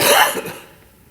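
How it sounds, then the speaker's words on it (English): During a committee meeting roll-call vote, a single sharp sneeze bursts out loudly and fades within a second into quiet room tone. "Yes, over somebody's sneeze."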